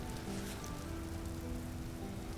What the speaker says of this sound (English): they get washed out with rain